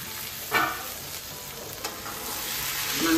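Chicken frying in a pan with its lid on, a steady close sizzle broken by a couple of short scraping stirs, growing slightly louder toward the end.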